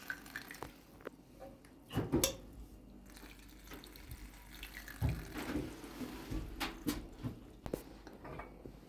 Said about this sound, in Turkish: reyhan şerbetimi süzdüm